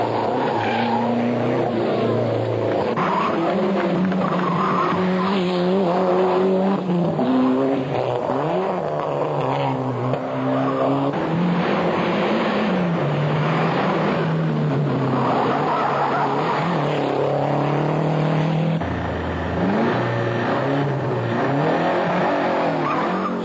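A Renault 21 Turbo rally car duels a Renault 5 at a rally, its turbocharged engine revving hard through gear changes with tire squeal, loud and continuous for over twenty seconds.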